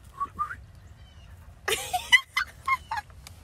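A few close chickens in a backyard coop on a snow day give short, sharp squawks and clucks in scattered bursts, with quiet gaps between them.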